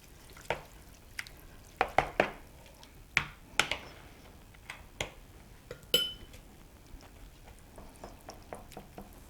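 Casserole ingredients with salt and black pepper are stirred in a dish, producing soft scraping and scattered light clinks of a utensil against the bowl, close and fairly quiet, with no talking.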